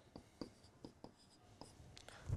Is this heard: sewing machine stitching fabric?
no